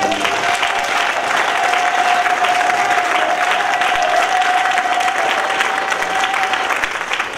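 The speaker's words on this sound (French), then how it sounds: "Est-ce qu'on peut lui donner une acclamation?" A church congregation breaks into loud, sustained applause and acclamation for God, a thick wash of many hands clapping that holds steady for several seconds, with a faint tone running through it before tapering slightly at the end.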